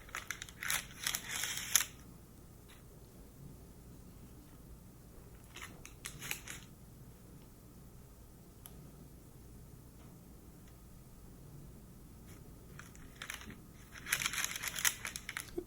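Crunchy cutting strokes through a baked giant Twix cake with shortbread, caramel and chocolate layers, in short bursts at the start, middle and end separated by quiet stretches, close and fairly soft.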